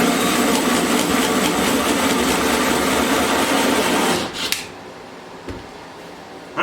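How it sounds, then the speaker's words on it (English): A power saw cuts wood for building a 12-string custom dreadnought guitar, a loud, steady rasping whine for about four seconds that then stops abruptly, leaving quiet room tone with a couple of faint knocks. "This saw can hurt you, it really can."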